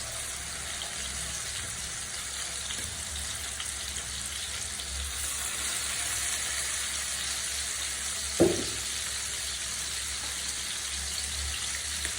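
Pieces of hilsa fish frying in a pan of oil, a steady broadband sizzle running throughout at an even level, with one short sharp clatter partway through.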